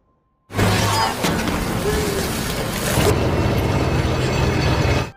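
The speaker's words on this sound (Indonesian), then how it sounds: "Beth menyuruh Cassie menyalakan alat penggiling" A loud grinder machine starts abruptly and runs continuously with a harsh, grinding mechanical roar and rattling, with a brief sharp crunch early on.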